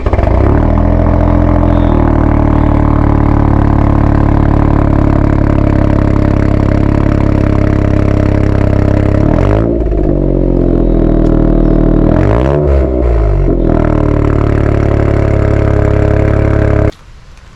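A Toyota GR Yaris with an Akrapovič exhaust, Litchfield Circuit Pack and Nitron suspension drives along with a loud, steady engine drone and two brief revving rises and dips during gear changes, heard from inside the cabin.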